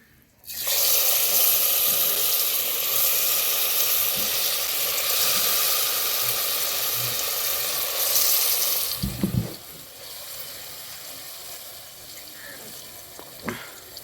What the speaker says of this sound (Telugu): ఇదే నెయ్యిలోకైతే మనము నీటి చేసి పెట్టుకున్న గంజరగడ్డని అయితే వేసుకుందామండి